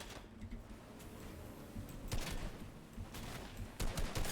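Gunfire in Fortnite Chapter 2 rattles out as several sharp bursts and a close volley of shots, over steady game background noise.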